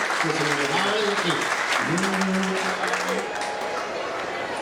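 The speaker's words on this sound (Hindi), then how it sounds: "तालियां एक बार आप लोग बजा दीजिए" Crowd at a Maharana Pratap Jayanti community gathering in Mumbai claps steadily, with a sustained musical or vocal tone sliding in and out over the dense applause.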